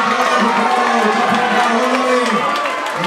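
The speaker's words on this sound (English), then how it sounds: "Once again, give the guys a massive cheer" A boxing crowd cheers and whoops loudly for the winner of the fight, a continuous roar of voices with excited shouts rising and falling throughout.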